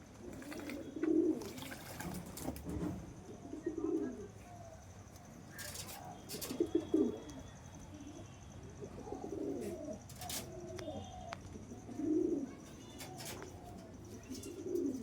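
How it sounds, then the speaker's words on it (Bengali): Pigeons cooing nearby in soft, repeated low throaty phrases at irregular intervals, fairly faint, with occasional clatters and background noise and no talk over them. "এখানে একটা পায়রা আছে দেখুন"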